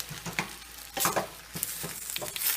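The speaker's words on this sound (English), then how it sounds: "while I'm sauteing this" Food sautéing in a hot pan on the stove: a steady sizzle with bursts of stirring and scraping every half second or so, close and fairly loud, no talk.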